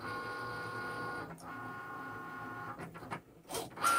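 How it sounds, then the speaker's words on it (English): Cricut cutting machine at work on holiday floor mats, giving a steady mechanical whir and hum with tonal motor whine, broken by brief shifts and carriage movements near the end, close and alone with no talk. "the beauty of Cricut is that it just does all the work for you once you get it there"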